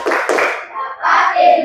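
Children in a classroom perform the 'tepuk pulang' clapping routine, a rhythmic burst of hand claps mixed with young voices, close and lively, with chanting continuing over the pattern.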